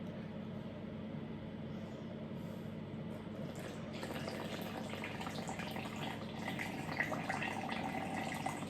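Warm water, 290 millilitres, pours steadily into a well of flour for homemade pizza dough, a continuous soft trickling stream that grows slightly louder and splashier toward the end.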